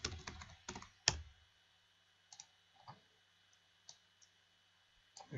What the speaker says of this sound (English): So just on the fly you can type in any comments you want.